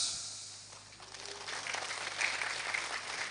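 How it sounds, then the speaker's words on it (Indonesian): An audience at a large religious gathering claps, a short swell of distant crowd applause that builds over a few seconds. "Nah, tepuk tangan padahal gak mudeng."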